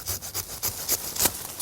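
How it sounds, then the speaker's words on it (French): Hand saw cutting through a willow branch growing among blueberry bushes in a garden, a few quick rasping strokes at close range, fairly quiet with no voices. "Un petit coup de scie,"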